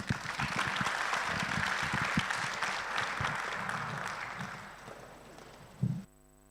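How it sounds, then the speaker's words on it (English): Audience applause in a university campus dialogue hall, a dense round of clapping that holds steady then slowly tapers off, ending with a sharp thump and near silence. "A round of applause,"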